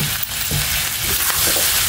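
Beef liver sautéing in a pan, a dense close sizzle and crackle with soft scraping stirs throughout.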